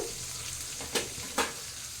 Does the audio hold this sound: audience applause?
no